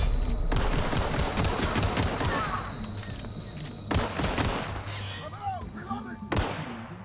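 Loud bursts of gunfire in the video game The Outer Worlds, a long dense volley followed by shorter separate bursts, with a voice speaking in between.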